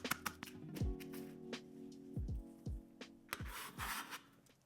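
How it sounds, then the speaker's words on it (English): Kitchen knife chopping lined-up scallion greens on a board for a ramen fried rice garnish: a series of sharp, close taps and knocks in quick irregular bursts, fairly quiet, with no talking. "so line them up and chop them up."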